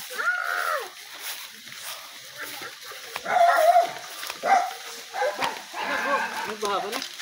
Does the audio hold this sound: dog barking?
yes